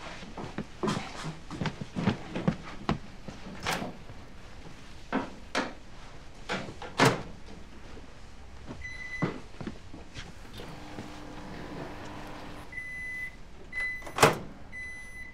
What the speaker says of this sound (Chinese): 我把红烧肉端去微波炉，再热一下